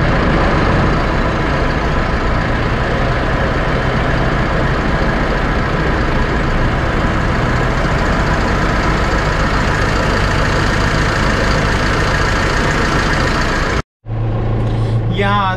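A farm tractor engine runs steadily and loudly while driving to spread manure, a constant heavy rumble that cuts out abruptly near the end.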